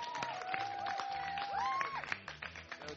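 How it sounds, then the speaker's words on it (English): Crowd applause and cheering for Chad Kagy after his X Games medals: scattered clapping with a whistle-like tone rising over it, moderately faint and brief. "Round of applause for Chad at X Games."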